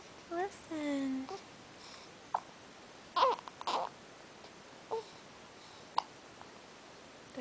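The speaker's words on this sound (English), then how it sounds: "I have the hiccups." A week-old baby hiccups several times: short, sharp, isolated chirps scattered across a quiet room, with a few small fussy vocal sounds near the start.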